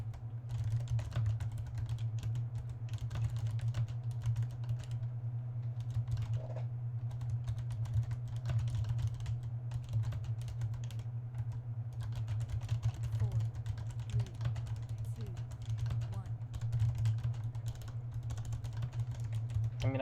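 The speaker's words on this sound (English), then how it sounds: "I mean, I can just talk. Why am I typing?" Continuous typing on a computer keyboard, dense clicking keystrokes going on steadily over a low steady hum, fairly quiet and close.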